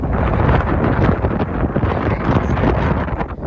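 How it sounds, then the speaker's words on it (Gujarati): Wind gusts across a peanut field at a farm, a steady loud rushing roar buffeting the microphone throughout with no pause. "પવનનો અવાજ કેવો આવતો તમને"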